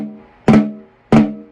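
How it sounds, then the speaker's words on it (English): Two flams struck on a snare drum during a warm-up, each a sharp, close, loud crack about half a second apart with a ringing decay between hits. "but I like my flams to sound like this."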